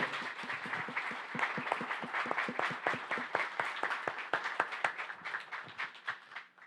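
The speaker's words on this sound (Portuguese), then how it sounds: "uma salva de palmas para os nossos palestrantes" An audience claps for panel speakers at a digital transformation panel, a moderate round of distinct, fairly sparse hand claps that fades somewhat toward the end.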